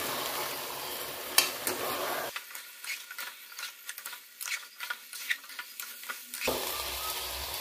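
Rice being stirred into cooked fish and meat in a pan, giving soft scraping and pattering stirs with faint sizzle, quiet and close, with a silent stretch partway through.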